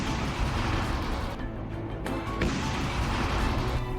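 A loud, sustained roar of explosive blast and crashing debris from a missile strike on the Russian warship Moskva, dense and continuous throughout with no speech.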